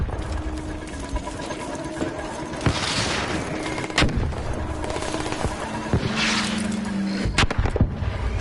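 Gunfire from a hostile robot in the video game Arc Raiders: several sharp shots at uneven intervals over a dense, rumbling battle backdrop, at moderate distance.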